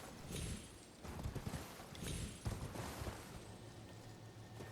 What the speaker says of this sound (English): Can I ride my horse here?